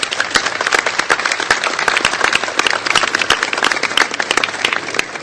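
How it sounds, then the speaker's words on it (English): Loud, dense applause from an audience at a presidential bill event on fuel efficiency: many sharp, rapid hand claps overlapping continuously and close by for several seconds. "Please give him a big round of applause."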